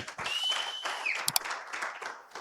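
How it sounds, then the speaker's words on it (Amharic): A church congregation at a worship and prayer conference applauds, a short burst of crowd clapping mixed with a whistle and cheering voices. "ጭብጨባ ይሁንለት ለእግዚአብሔር።"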